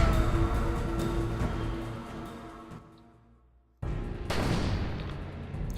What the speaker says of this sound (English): someone's not being very nice and is shooting at us